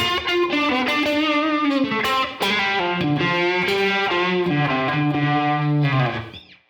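A distorted electric guitar plays a slow blues phrase of bent, sliding notes through an effects pedal with a swirling effect, sustaining to the end before fading out.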